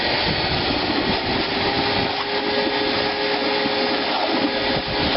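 A Shop-Vac wet vacuum sucks up water with a loud, steady roar up close. The motor runs unbroken for the whole stretch, with no talking.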